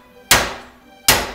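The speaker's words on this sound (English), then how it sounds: "take a 3-pound hammer and hit right on the joint." A 3-pound hammer strikes the tie rod joint on a 1995 Chevy Suburban twice, each blow a sharp, loud metallic whack with a short ringing decay.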